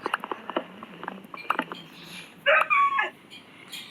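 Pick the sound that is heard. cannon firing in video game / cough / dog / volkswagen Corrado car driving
dog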